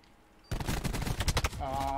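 Gunfire in a video game begins abruptly after a quiet moment: a fast, loud, close burst of shots lasting about a second, followed by a ringing tonal sound.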